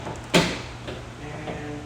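Hood strut on a Lexus GX470 popping onto its ball socket, a single sharp metallic click near the start, close, followed by faint handling noise.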